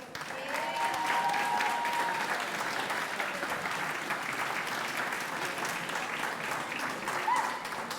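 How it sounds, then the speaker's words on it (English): Audience applause fills a community achievement awards ceremony in Kincardine, a steady, moderately loud clapping from a sizable crowd that holds for the full stretch without fading. "Big round of applause for yourself."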